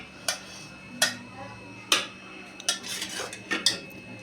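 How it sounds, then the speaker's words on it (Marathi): Hot aloo parathas, potato-stuffed flatbreads just off the stove, being lifted onto a plate, giving about seven sharp, spaced clinks and scrapes of utensil against plate with a few softer rattles near the end. "आता हे पराठे मी काढून घेते प्लेटमध्ये"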